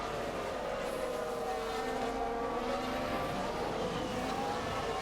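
Several Formula 1 cars race and overtake in F1 Manager at Imola, their engines a steady, distant whine layered under crowd-like ambience, holding at an even level throughout with no voices.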